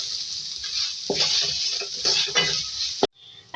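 Two medium onions frying in oil in a karahi, a steady close sizzle with a soft stirring scrape and a sharp clatter before the sound briefly drops out.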